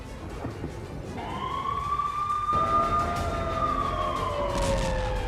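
Air raid sirens wail at night in Tel Aviv during a rocket attack, a loud rising tone that swells in and holds steady over a low background rumble, with no talk.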